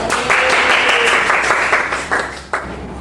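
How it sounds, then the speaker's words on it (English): Students in an English class give a classmate a short burst of applause, loud and close, which thins out into a few scattered claps before stopping. "So give applause for Daniel"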